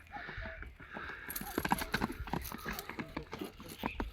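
Horses at a village farm in Kyrgyzstan walk with irregular clip-clopping hoof strikes, fairly close, over a low background hum, with no speech.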